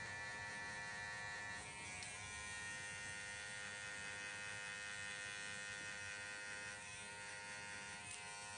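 An electric hair clipper cuts hair in a barbershop, giving a continuous, even motor buzz that holds steady throughout without any talking.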